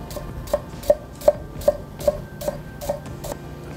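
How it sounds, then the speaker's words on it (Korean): A quarter of an onion minced with a knife on a cutting board: about eight evenly spaced, crisp chops in a steady rhythm, close and fairly loud, slowly fading in strength. "양파를 다진다"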